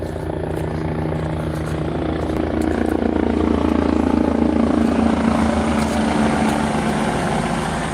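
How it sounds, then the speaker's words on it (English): Helicopters pass overhead above wooded trails, a steady heavy rotor thump and engine drone that swells louder midway and fills the whole stretch, with no talking. "My apologies about the helicopters."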